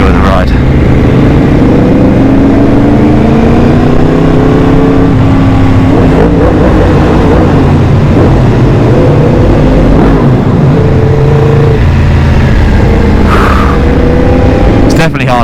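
Motorcycles ride mountain roads in the French Alps, loud continuous engine roar with shifting rev tones and wind noise throughout, close and unbroken.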